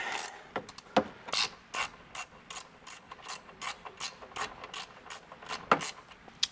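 A 14 mm ratcheting wrench loosens the strut top nuts on a 2016–2023 Toyota Tacoma during a leveling kit install, producing a steady run of crisp, close clicks in quick, uneven groups.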